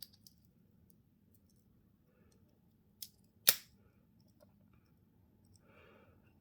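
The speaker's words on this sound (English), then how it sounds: "We've got the scissors" The small scissors of a Victorinox Super Tinker Wood Winter Magic 2022 limited edition Swiss Army knife give two brief, crisp snips close by in an otherwise quiet room.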